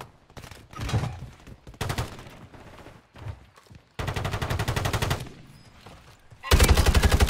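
Rapid automatic gunfire in the Warzone video game, a heavy-recoil gun firing in several loud bursts separated by short gaps, with the final burst the loudest and densest.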